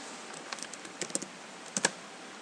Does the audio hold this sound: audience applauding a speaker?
no